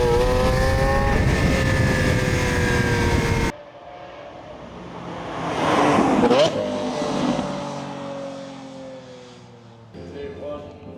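A Lamborghini Aventador V12 roars loudly at first, then a more distant pass follows with a rising and falling engine note and a brief swell of noise, then fades.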